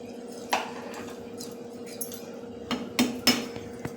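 A spoon stirs salted dal khichadi in a cooking pot, giving a few quiet metallic clinks and scrapes against the pot. The strongest taps bunch together near the end over a steady low hum.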